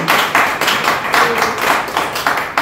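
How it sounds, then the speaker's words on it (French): A small audience at a French-language talk on uterine fibroids claps in short, uneven bursts, a few close hands striking loudly in a loose rhythm for a couple of seconds. "On applaudit."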